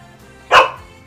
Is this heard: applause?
no